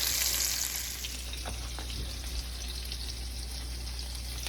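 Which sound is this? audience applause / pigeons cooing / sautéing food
sautéing food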